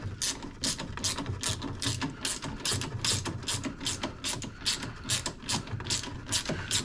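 A 7/16 ratchet wrench loosens a bolt on a Toro Recycler battery-powered mower, giving a steady run of rapid, even pawl clicks in quick strokes, close and fairly loud, with no talking.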